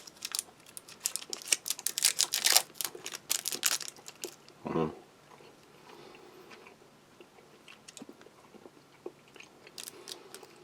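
Someone chews a small stick of spearmint gum from a Latvian army combat ration, with close, moist crunching and crinkling bites clustered in quick bursts early on, then softer, intermittent chewing.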